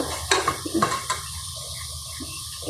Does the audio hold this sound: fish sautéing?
yes